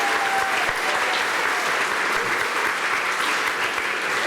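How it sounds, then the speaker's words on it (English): Audience at a Green Party campaign launch event applauding warmly for a party member, a dense, steady round of clapping that fills the room for several seconds. "You can give Kathy a round of applause if you'd like."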